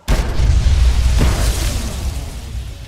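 A grenade explodes in the Fallout 3 video game: one sudden, loud, close boom with a deep rumble that slowly fades, and a faint crack partway through the decay.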